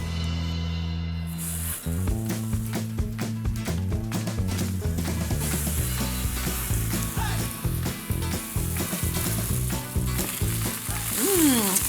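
Homemade hamburger patties sizzle in a hot pan, a steady frying hiss that runs throughout and grows brighter partway in, mostly overlaid by rhythmic background music.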